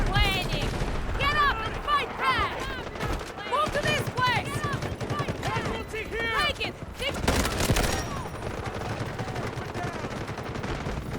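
Sniper and automatic gunfire in a video game, rapid shots and bursts crackling through most of the stretch, heavily mixed under excited, constant chatter and game sounds.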